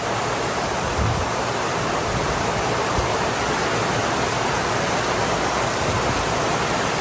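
Heavy rain pours during a thunderstorm in Florida, a dense, steady roar that stays loud and close throughout with no pauses and no voices.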